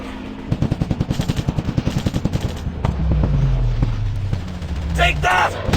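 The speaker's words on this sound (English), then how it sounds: "Fire on enemy! I'll shoot these fools up!" Rapid automatic gunfire from the video game Commando Strike, a quick loud burst of evenly spaced shots followed by heavier rumbling blasts and scattered sharp impacts.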